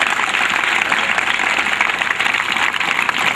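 A congregation at an evangelistic crusade in Yamoussoukro, Côte d'Ivoire, applauds loudly and steadily for the full stretch, a dense, even wash of many clapping hands with no break.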